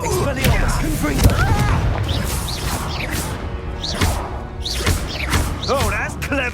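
Confringo blasting spell explosions in Hogwarts Legacy, a series of booms, thuds and whooshes spread through a busy fight, mixed with shouting voices throughout.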